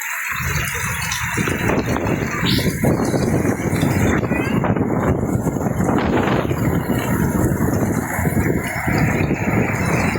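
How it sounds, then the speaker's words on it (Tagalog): Strong typhoon wind at the seashore roars and buffets the microphone in continuous loud gusts, with rumbling noise and occasional faint voices underneath. "Malakas po ang hangin ngayon dito mga ka-viewers."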